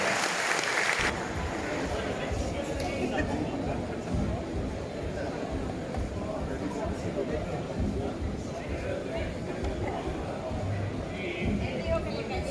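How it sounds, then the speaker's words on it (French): A Martinique crowd applauds a racing team's presentation, a dense wash of clapping and hubbub that carries on for several seconds beneath a voice. "Des applaudissements pour cette bulle qui prendra le départ demain à Saint-Joseph."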